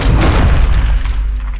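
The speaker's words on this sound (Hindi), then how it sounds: "तो ये एक विनाशकारी विस्फोट में जमीन पर गिर जाता है।" A loud, deep explosion effect of a metallic asteroid striking the ground, with a heavy booming impact that rumbles and slowly fades.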